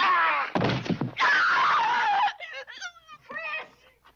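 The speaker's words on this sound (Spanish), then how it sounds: "El grito que se escucha en la película, un alarido desgarrador y lleno de dolor, no es actuación, es el grito real de la actriz" A film actress screams for real in pain during a scene, a loud, harsh, sustained cry with a brief break, followed by fainter broken sobbing or groaning sounds.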